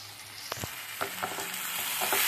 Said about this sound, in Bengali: তো এবারে জিঞ্জার গার্লিক পেস্ট অ্যাড করলাম।